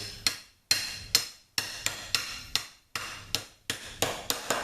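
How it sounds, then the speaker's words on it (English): Hammer tapping steel clamps off the front end of a 1973-76 Mopar A-body, roughly a dozen sharp metallic strikes in uneven pairs and short bursts, close and fairly loud with no talking. "You just tap them down and out."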